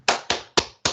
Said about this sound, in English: You do the stand clap.